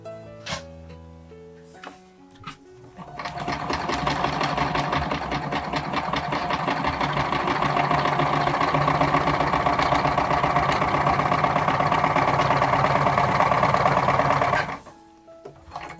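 A sewing machine runs steadily for about eleven seconds while stitching a vintage-style Barbie doll dress, starting after a few quiet clicks and stopping abruptly near the end, loud and close with no talking.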